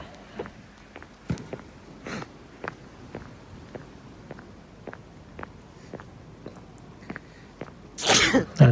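A person sneezes on a cold, windy Scottish football club ground: one sharp, loud sneeze bursts out near the end, after a stretch of soft, steady ticking and shuffling sounds.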